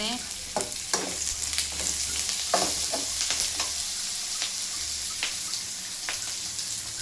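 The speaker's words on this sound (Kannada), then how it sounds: "ಮತ್ತು ಈಗ ಗಸಗಸೆ ಹಾಕಿದ್ದೀನಿ. ಫ್ರೈ ಮಾಡ್ತಿದ್ದೀನಿ." Poppy seeds frying and being stirred in a pan for a village-style bassaru with field beans and greens, a steady close sizzle broken by scraping stir strokes, with no voices.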